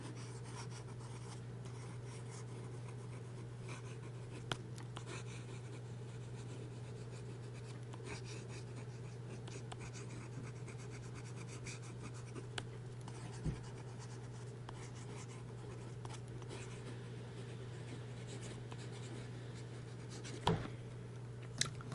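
Quiet scratchy scrawl of an Anderson medium steel nib fountain pen writing on paper, continuous soft rubbing strokes over a steady low hum, with occasional faint taps.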